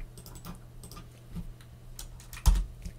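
Rapid typing on a computer keyboard while entering Linux commands for a Docker install on Ubuntu, irregular clusters of close clicks with one louder keystroke near the end.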